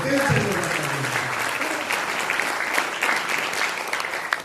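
Loud, dense applause from an audience at a DXN business camp in Amritsar that holds steady for several seconds, with a voice briefly audible at the start.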